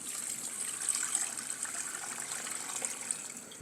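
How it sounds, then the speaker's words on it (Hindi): A litre of water gushes steadily into a cooking pot holding half a kilo of beef, outdoors in a village kitchen. The pour is close and continuous, a bright rushing splash with no voices. "1 लीटर इसके अंदर पानी डाल देंगे।"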